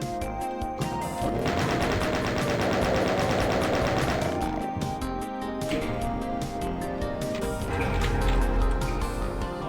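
Gunfire in Doom aimed at a shootable switch, dense rapid shots and game noise filling the scene loudly, followed by mechanical clatter and a low rumble near the end.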